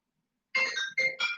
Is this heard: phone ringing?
yes